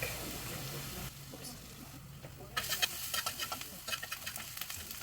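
Garlic fried in a pan for burger steak with mushroom gravy: steady sizzle at first, then a quieter stretch, followed by a run of quick scraping and crackling stirs close by.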